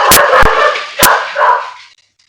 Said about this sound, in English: That'd be my dog.